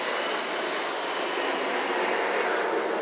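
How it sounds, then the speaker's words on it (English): An airplane passes overhead, a steady broad roar that holds evenly throughout, moderately loud and distant, with no talking. "That was an airplane going overhead."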